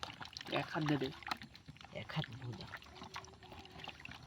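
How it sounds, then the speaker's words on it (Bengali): Mangoes being washed in water by hand, with splashing and trickling pours in bursts, moderately near, while a voice talks throughout. "এখন আমরা আমটা ধুচ্ছি, আমগুলো ধুয়ে নিচ্ছি"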